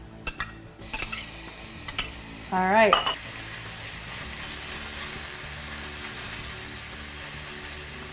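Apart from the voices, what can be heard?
garlic and ginger sizzling in a hot pan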